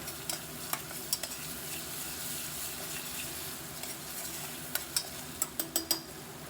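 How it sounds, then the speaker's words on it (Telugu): Ginger garlic paste fries in a pan while being stirred, a steady soft sizzle broken by sharp scraping clicks of the spoon against the pan, coming in a quicker cluster near the end. "ఇందులో ఒక ఫుల్ స్పూన్ అల్లం వెల్లుల్లిపాయ పేస్ట్ కూడా వేసుకొని ఒక్క నిమిషం ఇది కూడా కలిపి"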